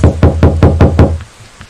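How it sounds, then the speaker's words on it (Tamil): Six loud, evenly spaced knocks strike a door at close range in a quick, steady rhythm, and a couple of faint taps follow before it goes quiet. "இந்த நேரத்துல யாரு கதவை தட்டுறா?"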